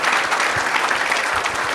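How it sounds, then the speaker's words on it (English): A crowd applauds a panel of guests at a sports Q&A session, with dense, continuous clapping at an even level throughout. "Round of applause. Come on."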